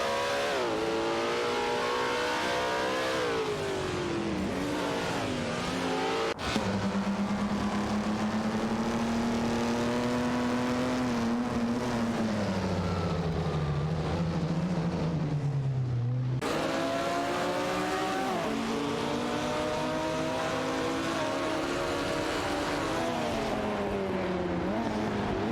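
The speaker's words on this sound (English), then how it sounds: "Okayoki 3 is piloting a Ferrari 375 F1, while Amundsen is in an Alfa Romeo 159" Several race cars, including a Ferrari 375 F1 and an Alfa Romeo 159, roar continuously in a simulated video game race, their engines rising and falling in pitch as they shift and pass, loud and steady throughout.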